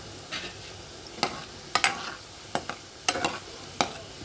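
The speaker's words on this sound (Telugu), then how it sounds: "రెండో వైపు కూడా వేగిపోతున్నాయి ఇవి" Pieces frying on their second side in a pan give a soft steady sizzle, punctuated by a handful of sharp scraping clinks as a spatula turns and stirs them, close and fairly quiet.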